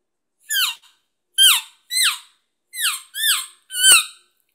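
A handheld elk call imitates an elk calf calling for its mother, giving six short, high, squeaky mews that slide downward in pitch, close and alone, some in quick pairs.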